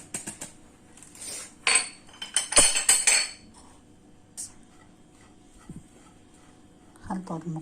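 A spoon stirs ingredients for a quick sweet in a bowl, clinking and scraping in a few short bursts amid long quiet gaps, with a brief knock near the end.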